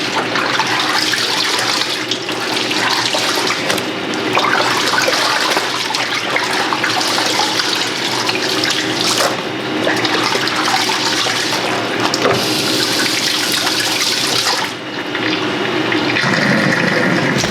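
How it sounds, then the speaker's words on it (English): Cloths rinsed under a running tap, a loud, close, steady rush of water splashing into a sink that continues throughout with slight shifts as the cloths move. "So I'll probably just rinse these"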